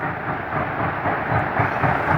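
Norfolk & Western 611 steam locomotive hauling four cars up the steep Saluda grade, a roughly 5% climb, gives a steady, loud, broad rumble with slight surges, close by and with no voices.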